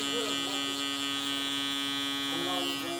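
A Monster Cerberus hair trimmer runs steadily with a quiet, constant electric motor hum and buzz, close by and continuous throughout.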